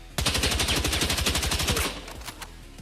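A long automatic burst sprayed at a wall in Battlefield 6, loud rapid evenly spaced shots for nearly two seconds, then a few trailing rounds and echo.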